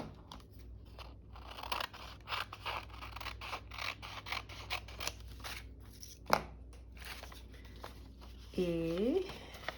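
Scissors cut through paper for a craft art folio, making a rapid series of close, crisp snips and crunches. A brief voice sounds near the end.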